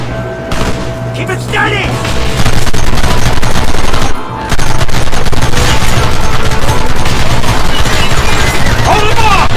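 Heavy gunfire in a chaotic shootout from the Western video game Red Dead Redemption, with dense rapid shots and booms running continuously and loud throughout, while voices shout over the top.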